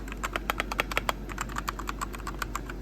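Rapid, crisp key clicks on a new Fortnite-themed computer keyboard, close up and alone, in an irregular typing rhythm with a steady low hum underneath.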